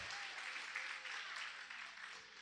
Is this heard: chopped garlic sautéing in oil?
no